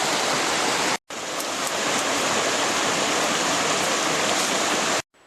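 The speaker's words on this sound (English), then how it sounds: "another sweet spot along the trail here, nice little waterfall, really beautiful and peaceful" Small waterfall along a forest hiking trail, a steady close broadband rush of falling water that continues unbroken apart from a short cut near one second and again at the end.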